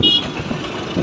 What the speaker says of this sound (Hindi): ये पीछे से एक हॉर्न बजा रहा है।